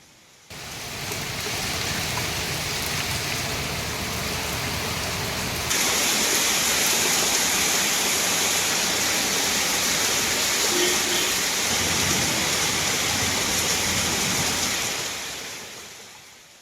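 Heavy rain and flowing rainwater in flooded low-lying areas of Tamil Nadu make a loud, steady roaring wash. It grows stronger partway through and fades out at the end.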